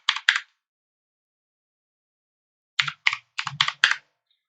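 Login password being typed on a computer keyboard: two quick keystrokes, a pause, then a rapid run of about six more clicking keys, close and clear with no talking.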